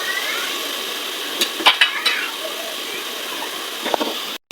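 Chili and turmeric powders being stirred through spices in a pan, giving a steady low sizzle with a few short scraping clatters of a utensil against the metal, then a brief dropout near the end.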